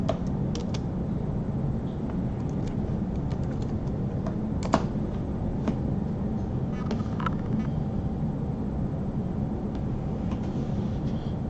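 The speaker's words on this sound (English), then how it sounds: "Let me type it in." Scattered keystrokes on a computer keyboard click faintly and irregularly over a steady low background rumble, with no one speaking.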